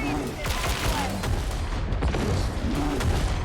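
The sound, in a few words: grenade explosion in Warhammer 40,000: Darktide video game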